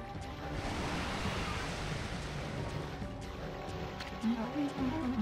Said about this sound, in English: This swelling of the waves is a sign that it's coming.